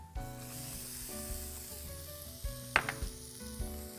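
Chopped onion goes into a hot pan of vermicelli and sizzles steadily close by, with a few sharp clinks and scrapes from stirring.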